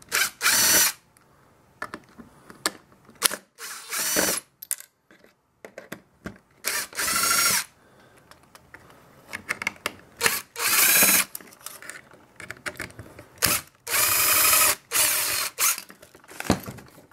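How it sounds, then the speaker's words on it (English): A power drill-driver pulls small screws out of a clock radio being taken apart, in a series of loud, close whirring bursts of about half a second to a second each, separated by short pauses and quieter mechanical handling. "Pulling out all the little screws."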